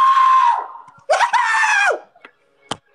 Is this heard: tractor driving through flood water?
no